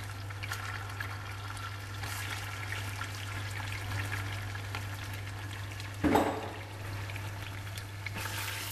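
Tomato paste sizzles and fries in a pan with onions, a steady hiss and crackle under a low hum, with one louder stir-like splutter partway through.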